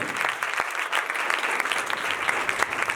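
A congregation claps in a church service, dense steady applause from many hands filling the room, fairly loud and sustained throughout with no talking.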